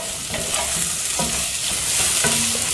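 Onions sautéing in a pan for araithu vitta sambar: a close, continuous sizzle with soft scraping stirs and small clatters as they are moved around, no voices.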